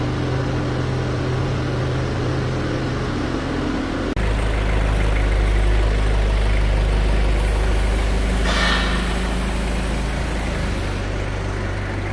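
A combine harvester's ARN98 diesel engine running rough with poor combustion and burning oil, a loud steady low drone that surges heavier partway through and holds, no voices.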